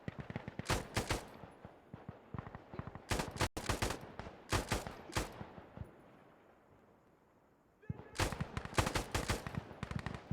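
Gunfire in the video game Insurgency Sandstorm, loud rapid bursts of automatic shots in clusters, a heavier report near the middle, a quieter lull with distant rumble, then another dense volley at the end.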